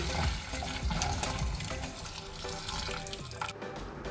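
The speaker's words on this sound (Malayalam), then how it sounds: "ഇനി കുറച്ചും കൂടി തിളച്ച വെള്ളം ഒഴിച്ചു കൊടുക്കാം" Boiling water is poured over cleaned chicken feet in a pot, a close, continuous splashing pour with hissing texture and small clatters, with no voices.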